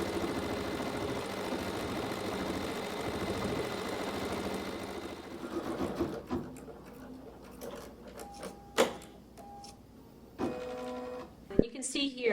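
A computerized embroidery machine stitching quilting lines runs with a steady mechanical whir for about six seconds, then stops, leaving scattered clicks, short beeps and handling noises.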